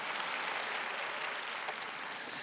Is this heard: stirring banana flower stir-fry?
no